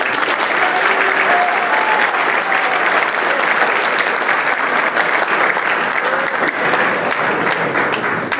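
A large audience applauds graduates at a ceremony, dense sustained clapping that fills the room evenly from start to finish with no voices on top.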